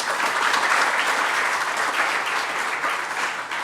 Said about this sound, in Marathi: त्या सर्वांसाठी पुन्हा एकदा तुम्ही टाळ्या वाजवाव्या.